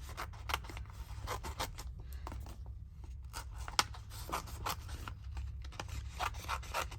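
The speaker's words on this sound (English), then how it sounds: "Just do that just to make it easy for me to get my scissors in there." Scissors cutting paper for French Rococo ephemera, close repeated snipping and rasping strokes in quick bursts with short pauses between.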